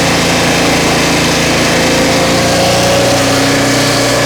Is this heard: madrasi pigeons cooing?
no